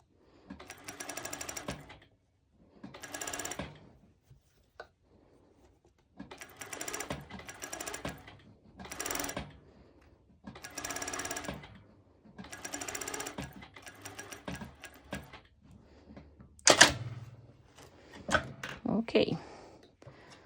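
Sewing machine running slowly over a swimsuit seam in repeated bursts of whirring stitching separated by pauses, with a few louder clunks near the end.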